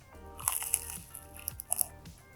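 Crisp bites into a Korean fried chicken wing, a few loud crunches close up with crackly chewing between them, no talking.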